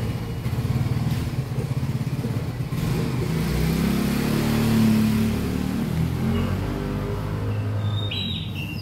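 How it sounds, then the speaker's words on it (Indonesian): Honda motorcycle engine running close by after being started for a scanner diagnosis, a steady idle rumble with a slight rise in revs midway, birds chirping faintly in the background. "sekarang kita nyalakan dulu motornya"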